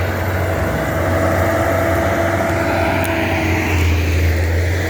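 A land-clearing machine runs steadily, turning overgrown scrubland into pasture, with a continuous loud engine drone and low hum that swells slightly near the end.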